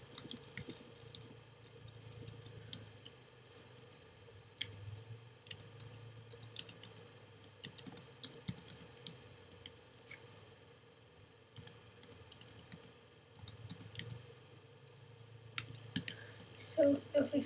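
Computer keyboard typing for a Minecraft sign: irregular bursts of quick, light key clicks close by, with pauses between them.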